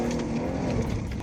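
A police car runs a PIT maneuver on a fleeing car, with a loud, close engine roar and tire noise filling a brief moment.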